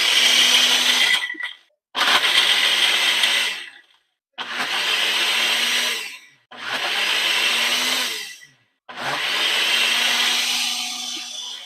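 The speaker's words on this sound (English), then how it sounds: "I really like this blender." A kitchen blender whirs loudly in five steady pulses of about two seconds each, every burst cutting off abruptly before the motor spins up again, close by with no voices.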